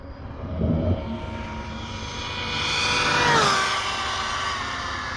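An Arrma Typhon RC car at full throttle on a road makes a high-pitched electric motor whine that swells as it passes, rising then dropping in pitch as it speeds away.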